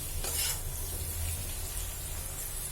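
Spice masala with coriander powder roasts in a pan with a dense, close sizzle and continuous stirring, no voices.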